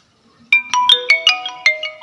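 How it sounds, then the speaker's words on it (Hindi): An incoming-call phone ringtone plays a bright melodic pattern of quick, evenly spaced electronic notes, loud and close, starting after a brief near-silence. "इनका फ़ोन आ रहा है।"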